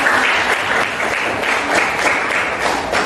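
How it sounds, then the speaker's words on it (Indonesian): A room of participants in a training-module session claps together in a loud, steady burst of applause, dense hand claps sustained throughout with no talking over it. "Oke, tepuk tangan buat kita semua."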